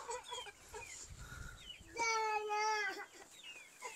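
Young chickens let into a house cluck and cheep close by, a busy scatter of short calls with a louder, drawn-out call rising briefly in the middle.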